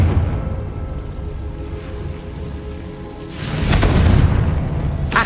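A Confringo fire spell detonates in Hogwarts Legacy as a deep rumbling boom swells in the latter half, bursting loud over a low ambient game drone with a sharp crackling tail near the end.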